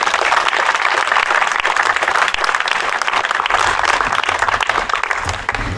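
Sustained, dense applause from an audience at an award ceremony, loud and close, holding steady throughout with a slight easing at the very end.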